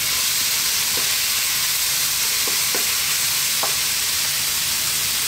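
Fresh chili sizzling in hot oil in a pan while making a kingfish curry, a constant loud frying hiss with a few soft scraping stirs of a spoon, no talking.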